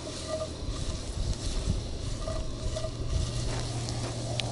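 Potatoes fry in a carbon steel pan while cooking lunch at a Utah campground, giving a steady low sizzle with faint scraping and stirring, close by and moderately quiet.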